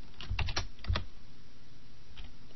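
Computer keyboard keys typed in a few quick bursts of clicks, a cluster of close keystrokes followed by a pause and a couple more taps, with no voices.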